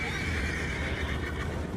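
A horse in the video game Red Dead Redemption 2 lets out a long, loud neigh that fills nearly two seconds, with no talk over it.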